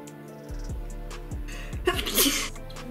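A single sharp sneeze bursts out close by, heard over soft background music.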